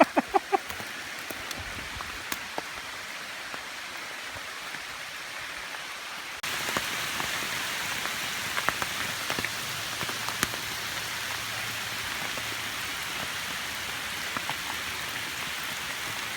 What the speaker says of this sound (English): It's raining so much, it's even coming down the trees in my shelter.